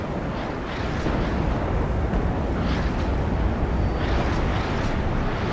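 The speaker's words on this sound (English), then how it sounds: "Loads of those Lars 2s firing." LARS 2 rocket artillery in the video game WARNO fires in a dense, continuous rumbling barrage, a loud roaring wash of launches with brief swells throughout.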